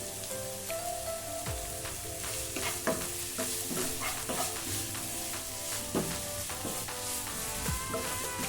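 Ginger, garlic and curry leaves fry in a pan with a bright, continuous sizzle, while a spoon stirs and scrapes in an uneven rhythm close by.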